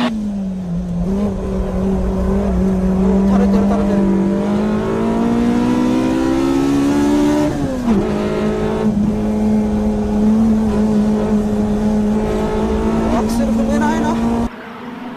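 Race cars, among them a Toyota 86 and a Honda CRX, race on a circuit. Loud, close engine notes rise and shift through gear changes, with a brief dip mid-way, and excited commentary runs over them.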